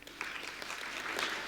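A conference audience giving a brief, light round of applause, scattered hand claps building slightly over a second and a half, moderately distant and even.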